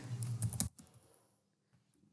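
A computer keyboard rattles in a dense, close flurry of keystrokes as a search is typed into a web browser, then the typing stops and leaves near silence.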